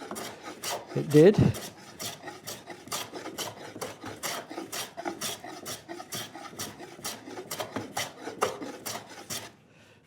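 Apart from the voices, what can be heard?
hand plane taking a shaving off a wooden workbench drawer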